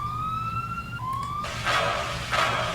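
Siren effects layered into an electronic music track: wailing rising tones sweep upward, then give way to dense bursts of chant-like noise.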